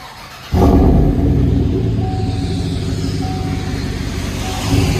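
A Chevy/GMC 5.3L V8 with the muffler and resonator cut off rumbles through a new tailpipe. It starts abruptly, then holds a deep, loud, close idle rumble with some rasp and no talk.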